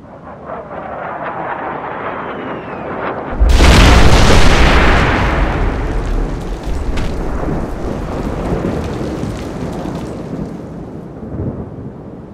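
A heavy airstrike explosion in Operation Flashpoint erupts with a sudden deep boom, then a long rolling rumble and debris hiss that slowly decays over many seconds.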